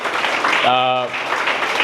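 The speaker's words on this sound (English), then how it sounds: "We should clap, for the canteen day." A short burst of audience applause at a founder's day event, with a brief voiced cheer rising above the clapping.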